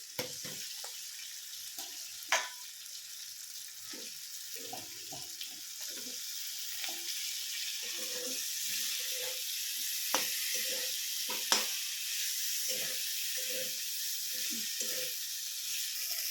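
Okra fries in spiced oil and is stirred in a pan, with scattered sizzling bursts and scraping knocks over a soft, steady hiss; the sounds come close and irregular, with no talking.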